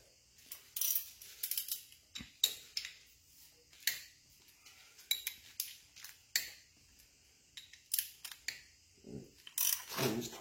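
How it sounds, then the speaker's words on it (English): A wrench ratchets while bolts are torqued down, producing a series of close, sharp clicking bursts spread irregularly through the quiet with brief pauses between them. "Torque these down."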